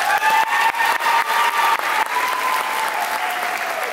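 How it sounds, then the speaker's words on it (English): Loud, dense clapping rises from the audience at a high school graduation convocation, close and continuous before easing slightly toward the end, with whistles and cheers scattered through it. "Let's give another round of applause for the class of 2017."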